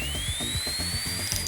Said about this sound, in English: I'm probably giving you PTSD because this sounds like a dentist drill